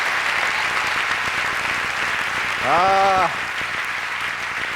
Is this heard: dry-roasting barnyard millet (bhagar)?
no